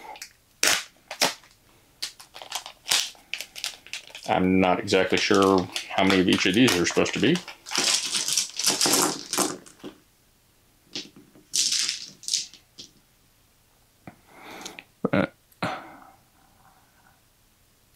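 Upgraded, deeply engraved D6 dice from The Witcher Old World board game clatter and rattle in hand, with sharp clicks and rolling bursts scattered between and under someone talking.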